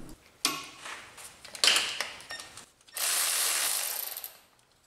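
Ratchet with a 21 mm socket turning the engine crank of a Mazda Miata, close rapid clicking in short bursts, then a longer steady whirring spin, no talk.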